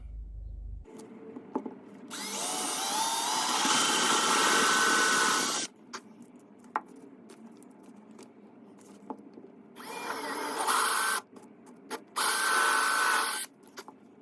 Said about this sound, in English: this is a 1 1/8 inch hole saw